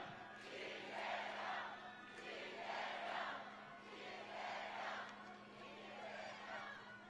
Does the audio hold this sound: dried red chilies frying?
no